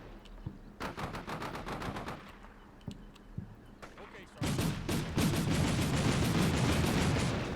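Rapid video-game gunfire in a war shooter, bursts of shots crackling through the first half, then a denser, louder barrage of overlapping fire from about four seconds on, with a voice speaking in between.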